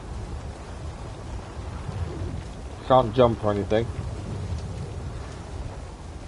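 Thunderstorm with rain in Star Wars Jedi Survivor, a steady hiss of rainfall with a low rumble underneath, while someone speaks briefly in the middle of the clip.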